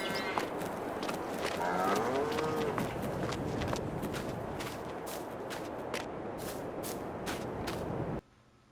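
Cattle in Farming Simulator 22 moo several times in a free-range cow pasture, the calls rising over a steady loud game ambience of wind and rustle, with sharp clicks scattered throughout until the sound cuts off near the end.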